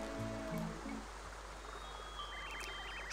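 Flowing water in the Paper Mario video game runs as a soft, steady, faint stream, with brief musical game tones in the background.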